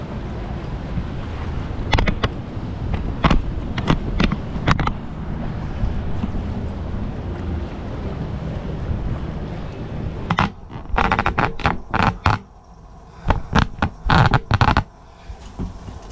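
Strong wind buffets a microphone aboard a sailboat in the Bahamas, a loud, continuous roar. Sharp rustling bursts and knocks come through close by.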